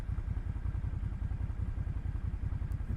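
Motorcycle engine revved with the throttle while the clutch is engaged during a hill-start, a steady low rumble with rapid firing pulses and slight swells, close and fairly quiet with no talk.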